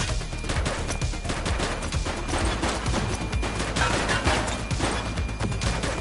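Dense gunfire from a shootout in the police video game The Precinct, rapid overlapping shots and bursts crackling continuously at steady loudness, with no clear voices over it.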